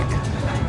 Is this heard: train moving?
yes